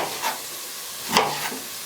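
French fries frying for a homemade hamburger meal produce a couple of brief, close sizzling bursts, like food being stirred in hot oil, over a soft background hiss.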